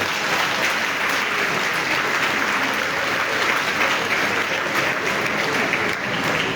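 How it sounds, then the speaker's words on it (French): Sustained applause from a church congregation at a Mass for the Labour Day feast of Saint Joseph the Worker, dense and steady throughout at an even level, with no voices standing out. "On applaudit toutes les femmes de l'âge."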